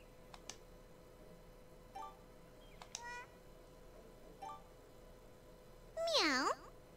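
A cat meows in the video game Atelier Iris: Eternal Mana, several short, clear meows spaced apart, ending with a longer, louder sliding meow, over faint keyboard-like ticks.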